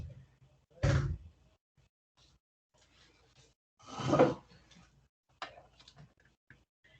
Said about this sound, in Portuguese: deixa eu fechar a porta do meu quarto que eu esqueci